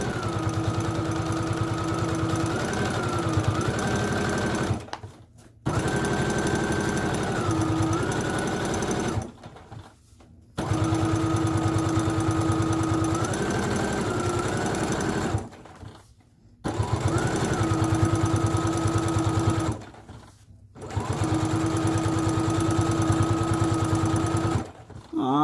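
A sewing machine stitches a dog leash in several steady whirring runs, each lasting a few seconds and separated by brief pauses, loud and close.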